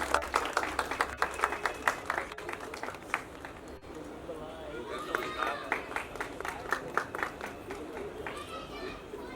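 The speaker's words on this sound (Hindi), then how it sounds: "मैं चाहता हूं तालियों से स्वागत कीजिए" Applause and clapping from an audience welcoming actor Om Puri at a film trailer launch event, a dense crowd patter with chatter running underneath and some brief louder bursts.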